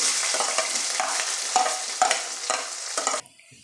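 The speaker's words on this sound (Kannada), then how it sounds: "ಸ್ವಲ್ಪ ಫ್ರೈ ಮಾಡಿಕೊಂಡು ಈಗ ಈರುಳ್ಳಿ ಸೇರಿಸ್ಕೊಳ್ತಾ ಇದ್ದೀನಿ." Onions fry in a pan with cumin and a bay leaf, a close steady sizzle punctuated by repeated scraping stirs roughly every half second before the sound drops away at the end.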